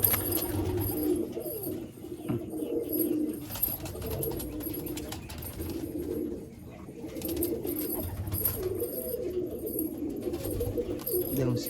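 Low, throaty cooing from a red-veined Giribaz pigeon rolls on in repeated bouts with short pauses between them, fairly quiet and nearby, with faint voices now and then in the background.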